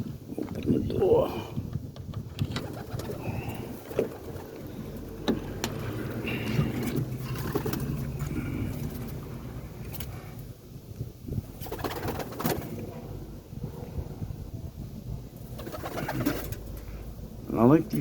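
Boston ripping roller pigeons coo steadily in a loft on a Saturday morning, a low continuous murmur close by, with someone talking over them and occasional door and handling noises.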